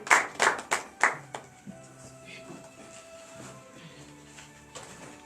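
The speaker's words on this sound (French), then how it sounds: "donnez de vives acclamations à l'Éternel et venez vous asseoir" A church congregation claps in acclamation, several loud hand claps in quick succession at first, then fading into scattered softer claps over sustained tones and background murmur.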